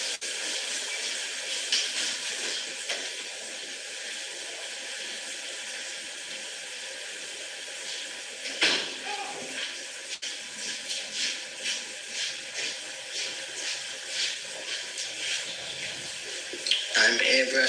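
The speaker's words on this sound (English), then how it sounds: "I'm airbrushing the white." An airbrush sprays white paint onto a pumpkin, a steady airy hiss that runs continuously, with a few brief louder bursts and clicks near the middle and end.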